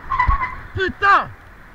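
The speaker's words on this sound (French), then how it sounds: "Je freine pour l'orange." A car braking hard in traffic in Namur, with a brief squeal of tyres rising and falling near the end, while people talk throughout.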